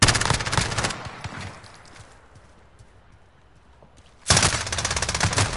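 Rapid automatic gunfire from a shooting video game rattles in a dense burst, goes quiet for a couple of seconds, then resumes loudly in another fast, clattering volley.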